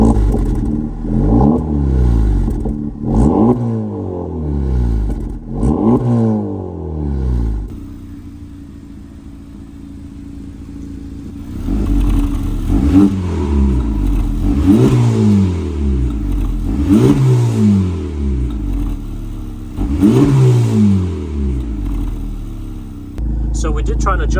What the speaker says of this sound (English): give it some RPMs. We'll just rev it.